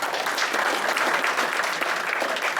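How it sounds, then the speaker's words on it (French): Audience applause at an awards ceremony for technical analysis trophies, a dense, steady wash of clapping from a large crowd that holds at an even level throughout, with no voices standing out. "On applaudit très fort Stéphane."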